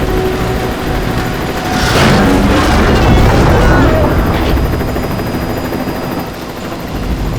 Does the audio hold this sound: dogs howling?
no